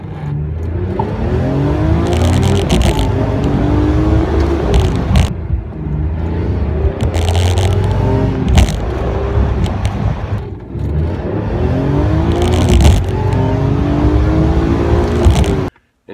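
A BMW E46 M3 accelerating hard through repeated gears, loud rising engine howls that climb, drop at each shift and climb again, recorded close from the car, with no talking.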